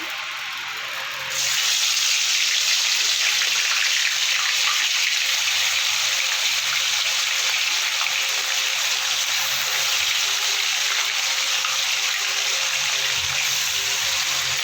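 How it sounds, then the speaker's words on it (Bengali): Fish frying one piece at a time in hot oil for a spicy Bengali bhola fish curry, a steady loud hiss that starts abruptly and continues unbroken, with no talking. "এবার আমি মাছগুলো একে একে ভেজে নেব"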